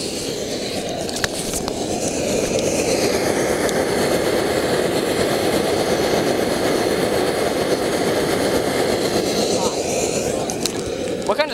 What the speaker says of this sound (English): here's dinner starting, and it sounds like a train. What kind of stove is this?